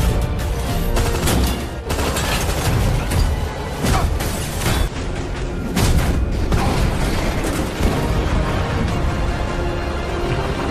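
Loud, continuous action-movie din from the film Jung_E as a train carriage falls and explodes, with repeated booming blasts and crashing impacts, dense and rumbling throughout, no talking.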